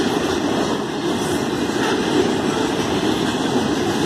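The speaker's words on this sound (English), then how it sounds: "This is a mixed freight train, a mixed load." A Union Pacific mixed freight train rolls through Altamont, Illinois with a loud, steady rumble and rattling of cars, a faint high squeal riding on top throughout.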